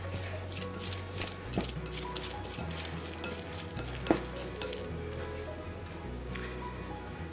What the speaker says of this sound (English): We're going to mix. I'm going to scrape down the sides of my bowl.